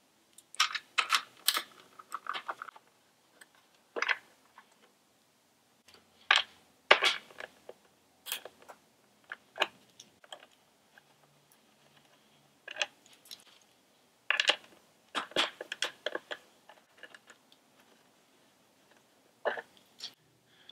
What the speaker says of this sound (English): we're going to remove these 4 bolts with a 4mm Allen wrench